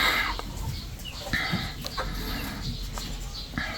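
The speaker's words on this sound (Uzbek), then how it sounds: "Mana oyoqlari, mana jo'jalar." Yellow-legged Adler hens and their chicks cluck and peep close by in a poultry room, with short soft calls and chirps coming in irregular bursts.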